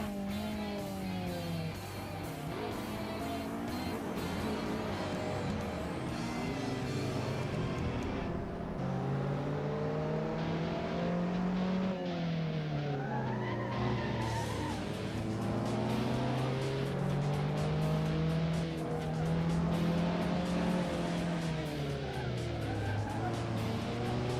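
Late-1990s Lotus Elise with Vauxhall body and running gear driven hard in Assetto Corsa, engine note rising and falling through gear changes with tire squeal, loud and continuous, with someone talking over it throughout.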